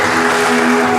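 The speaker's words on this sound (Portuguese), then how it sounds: "Você pode aplaudir o Senhor por isso?" Steady applause from a church congregation, dense and continuous, with a faint sustained tone underneath.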